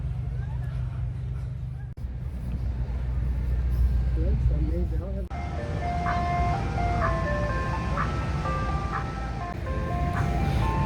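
A parked ice cream truck on a hot, humid city street plays its looping chime tune, steady and fairly close over traffic and outdoor noise.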